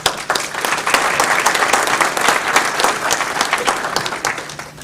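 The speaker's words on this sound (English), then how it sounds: "I'm going to please request that the audience hold their applause until all of the candidates have spoken" An audience at a Cape Canaveral candidates forum bursts into loud, dense applause that holds steady for several seconds before thinning out at the end.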